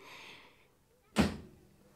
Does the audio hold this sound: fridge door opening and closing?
yes